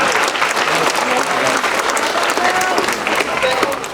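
A crowd at a junior football club presentation day claps loudly for the girls' program, a thick, continuous wash of many hands that stays even throughout, with some chatter mixed into the clapping.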